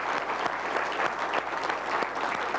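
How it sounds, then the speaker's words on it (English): Applause from a lecture audience, a dense and even wash of many hands clapping that holds steady throughout, with no voices over it. "And we all owe them a bit of an applause"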